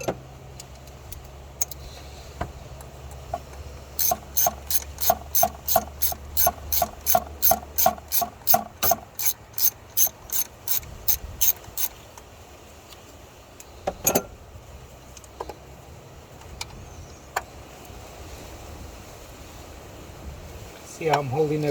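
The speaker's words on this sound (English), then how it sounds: "See how I'm holding it with one hand and taking the bolts off with the other?" Bolts come off the fuel pressure regulator on a Powerstroke 6.0 diesel truck engine: a quick run of close ratchet clicks, then scattered metallic clicks and handling noises, with a voice talking at times.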